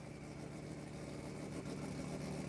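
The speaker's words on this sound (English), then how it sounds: "The car is down, and you can hear it running." A Formula Drift car sits idling after going down, its engine a faint, steady low rumble heard from a distance with no other sounds over it.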